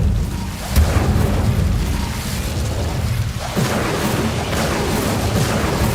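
Fire spell Incendio cast in the Hogwarts Legacy video game: two loud, whooshing bursts, one early and one midway, over a constant dense rumble of game sound.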